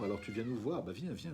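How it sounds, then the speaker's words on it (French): A cat meows softly under a woman's close French speech, its brief calls mixing with her coaxing voice during a live stream. "il y a un beau chat qui vient pour dire bonjour"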